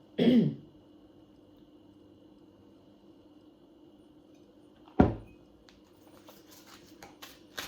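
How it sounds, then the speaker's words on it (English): A single throat clearing early on, then quiet, followed by a sharp cough-like burst later and faint small noises. "I do apologise if I keep coughing."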